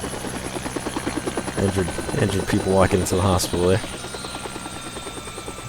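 Helicopter engine in the video game Helicopter Simulator 2014, a steady rhythmic rotor thump running throughout beneath a voice.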